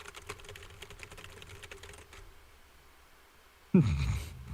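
Computer keyboard typing during a livestream, a run of soft clicking keystrokes for about two seconds, then quiet, before a sudden loud burst of other noise near the end.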